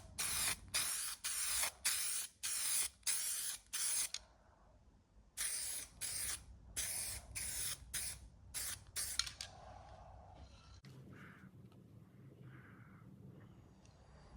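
A paint spray gun dusts a light coat onto an aluminium car body panel, with a series of short, loud, hissing bursts in a quick rhythm, followed by fainter intermittent spraying.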